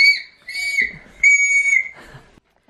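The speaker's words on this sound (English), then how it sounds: "Blow your whistles again?" Toy whistles blown in a home by children, several shrill sustained toots in a row, loud and close, with brief gaps of quiet between blasts.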